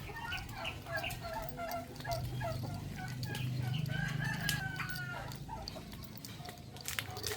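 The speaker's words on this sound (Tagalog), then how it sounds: "Ang turkey. Turkey." Poultry calls fill a rural yard, with a turkey gobbling and chickens clucking and crowing at a moderate distance over a steady background hum.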